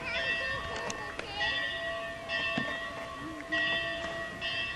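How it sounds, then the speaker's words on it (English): A bell rings for supper at a family reunion lake camp in 1993, several ringing strokes with sustained harmonic tones repeating over a few seconds, fairly distant, with outdoor voices faintly in the background. "Uh-oh, the bell. That must mean supper time."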